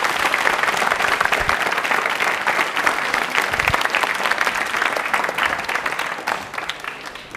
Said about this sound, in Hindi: एक बार तालियां जोरदार होनी चाहिए इनके लिए